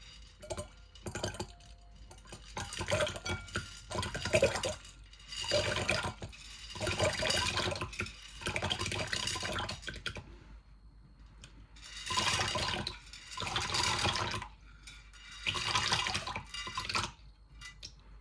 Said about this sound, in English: We need to soak them in a bowl of water.